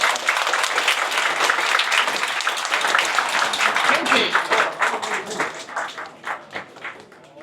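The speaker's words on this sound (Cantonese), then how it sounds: "咁就大家俾多啲掌聲俾佢哋" A crowd at a toy and model fair event applauds a display booth, broadband clapping loud and steady for several seconds before thinning into scattered individual claps toward the end.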